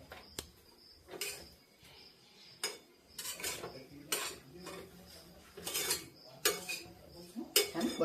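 Semolina upma being stirred in a pan with sugar and salt added, a metal spoon scraping and clinking against the pan in irregular bursts, fairly close, with no talking.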